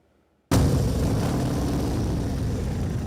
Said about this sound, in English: That's the sound of Bikes, Blues, and Barbecue rolling into downtown Rogers.